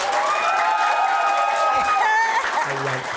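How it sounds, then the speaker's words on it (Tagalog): A studio audience applauding and cheering on a Philippine talk show, a dense continuous wash of clapping with whoops, fading near the end as a voice speaks over it. "Palakpak na kayo ng palakpak"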